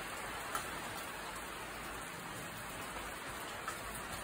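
Steady rain falling on a pergola roof in a garden, a constant even hiss with occasional faint drips and ticks, no voices.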